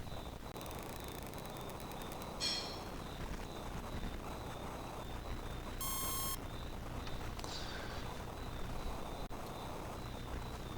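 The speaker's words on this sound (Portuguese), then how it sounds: "é reproduzido o tipo de som por esse componente, que é o buzzer" Simulated buzzer in a Tinkercad circuit emits a few faint, shrill electronic beeps and a short bleeping burst at different pitches, sitting low over a steady hiss.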